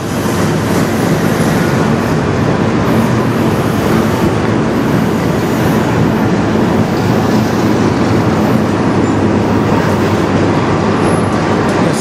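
A CN full auto rack freight train rolls past loudly and continuously, a dense roar of wheels and cars on the rails with faint rhythmic clatter throughout.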